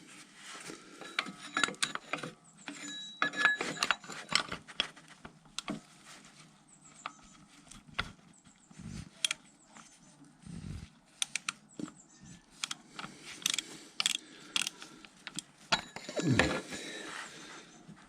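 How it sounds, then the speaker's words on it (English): Oil filter wrench working loose the filter on a 2016–2017 Triumph Speed Triple, a run of close, light mechanical clicks, ratcheting and scraping taps with occasional metallic knocks, uneven and fairly quiet, with no talking. "let's try and get the oil filter off"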